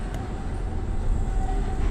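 A tram in the video game Abiotic Factor rumbles along its rails, a steady low mechanical roll with a faint whine, continuous and close with no talking.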